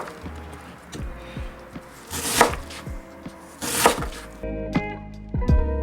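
A knife chops rapidly on a cutting board, a steady series of close, sharp knocks as an onion is diced.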